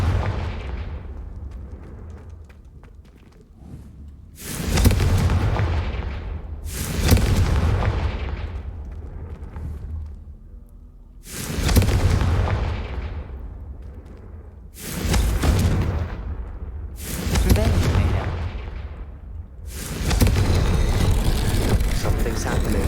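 Repeated Confringo fire-spell explosions in the Hogwarts Legacy video game, seven heavy booming blasts spaced a few seconds apart, each with a long rumbling decay, loud and close.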